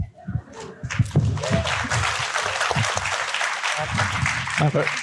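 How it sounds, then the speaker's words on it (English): Audience applause fills the space, a dense steady clapping with scattered voices and cheers mixed in throughout. "Your applause was late, man."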